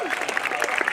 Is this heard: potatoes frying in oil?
no